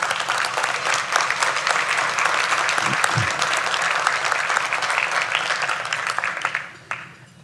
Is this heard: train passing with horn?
no